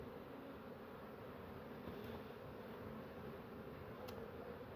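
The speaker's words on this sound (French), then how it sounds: "Allez, on va faire partir un peu les abeilles dessous." Honeybees drone around an opened hive during a beekeeping inspection, a faint, steady buzz under low background hum, with no talk.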